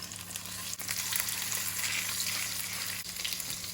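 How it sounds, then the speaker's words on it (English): Steady, close sizzling and crackling of potatoes frying in a hot pan, with a low hum underneath and no voices. "If it's not sizzling, the pan is not hot enough."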